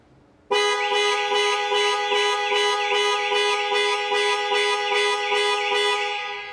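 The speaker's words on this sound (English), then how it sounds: "the horn will sound and the hazard lights will flash." A Land Rover Discovery Sport's panic alarm horn blares in a rapid, regular pulsing pattern, loud and close, repeating steadily for several seconds without pause.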